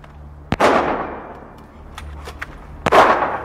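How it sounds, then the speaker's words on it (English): Two gunshots ring out in a scene from the 1994 film The Stand, each a sharp, loud crack with a reverberant tail, spaced about two seconds apart over a low background. "She's shooting at us."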